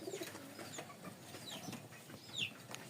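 A Giribaz pigeon calls from inside a cage, giving faint, soft cooing and clucking notes in short bursts against a quiet background.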